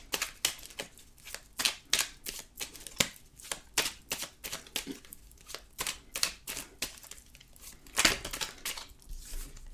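Cards being shuffled for a tarot reading, a rapid series of crisp riffling and slapping bursts repeating close up throughout, with no talking.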